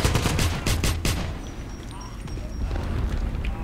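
Rapid gunfire from a weapon in the video game Wolfenstein, a burst of sharp repeated shots in the first second that then gives way to lower game ambience with a faint tonal sweep.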